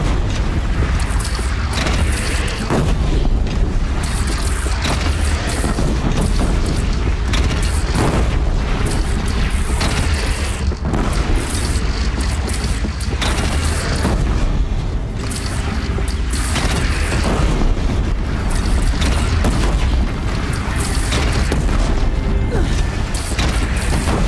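Cannon fire in the Horizon Zero Dawn video game, a steady barrage of heavy booms and crashes layered with mechanical clatter, dense and loud for the whole stretch with no pauses.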